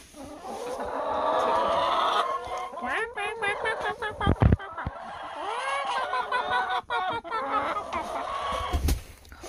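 Backyard chickens clucking and cackling close by in a coop at egg-collecting time, a busy run of chatter and squawks rising and falling, with a few soft knocks and brief human talk in the mix.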